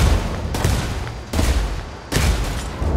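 Gunfire from Ghost Recon Wildlands comes as three heavy, booming bursts of shots spaced roughly a second apart, dense and loud with a rumbling low end.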